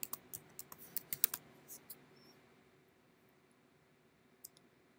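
Sharp, faint computer mouse clicks, about a dozen quick taps in the first two seconds and one more near the end, while a WSO2 ESB configuration project is set up in software.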